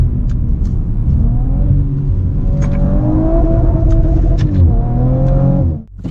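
A 2018 Audi RS4 B9 Quattro engine roars as it accelerates hard, pitch climbing through the gears with brief shifts, loud and close, ending abruptly.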